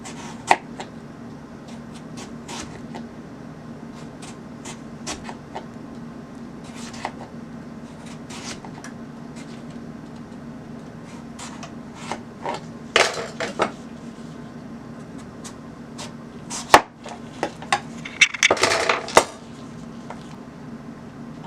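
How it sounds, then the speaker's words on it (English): A knife slices pawpaw into strips on a board, giving scattered light taps and sharper clacks that bunch up toward the end over a low steady hum, with no talking. "I'm going to cut them smaller, but I want to show you how easy it is to cut the strips."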